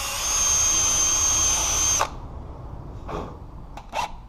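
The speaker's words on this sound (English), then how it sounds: "we're going to want to go ahead and pre-drill where our plate's going to be" A power drill pre-drills screw holes for a door strike plate, whining loudly and steadily for about two seconds before it stops, followed by a few faint clicks and short handling noises.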